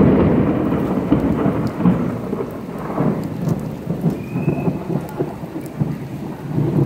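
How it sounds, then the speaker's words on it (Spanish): Heavy rain pours steadily at the Xetulul theme park in Guatemala while deep rolls of thunder rumble repeatedly through the downpour, with no voices heard. "Calidad de lluvia, va,"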